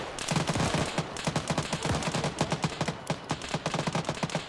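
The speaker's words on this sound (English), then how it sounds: "it might actually be the AT-4 guy shooting at them" Rapid, dense gunfire with sharp repeated bursts, plus AT-4 launcher shots aimed at infantry during a squad operation in Arma 3, heard as loud continuous battle noise without any speech.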